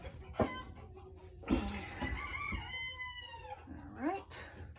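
Roosters in a backyard flock of thirteen crow repeatedly with drawn-out calls, and hens cluck, all close and loud, with a voice talking over them.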